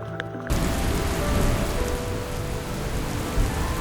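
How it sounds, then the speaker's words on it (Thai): Heavy rain pouring down on a mountainside in the Japan Alps as it builds into a storm, a dense, loud, steady hiss that swells in after a brief quieter start and holds without letup. "ฝนที่ตกหนักขึ้นเล่ากับว่ากำลังถูกอัปเกรดเป็นพายุ"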